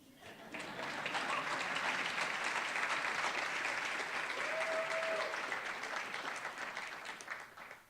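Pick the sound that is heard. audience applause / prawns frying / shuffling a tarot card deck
audience applause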